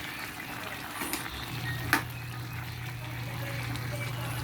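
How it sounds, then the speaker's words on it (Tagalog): Minudo stew being stirred in a pan makes a quiet simmering sizzle with a single sharp clink of the utensil partway through, and a soft voice is faintly present. "Haluin natin siya."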